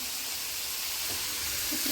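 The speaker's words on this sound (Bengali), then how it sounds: "পেঁয়াজ ভাজা হচ্ছে সাথে মাছ ভাজা হবে" Onions frying in a pan at a home cooking spot, a steady bright sizzle with no break, close and fairly loud, and no talking.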